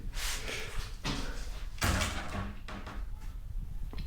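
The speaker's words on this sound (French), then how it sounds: "Elle frotte par terre." A newly hung bathroom door scrapes and rubs against the floor during a home renovation, giving several rough swishing drags with thumps between them, close and fairly loud.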